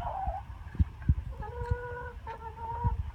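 A chicken outdoors on a foggy, rainy day gives a few soft clucks and drawn-out tonal calls, close by, over low rustling and thumps as it pecks at grass.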